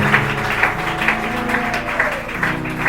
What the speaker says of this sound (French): Acclamons encore plus fort que le Seigneur